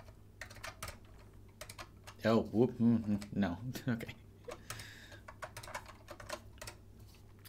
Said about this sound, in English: Still sometimes fumble with my new keyboard.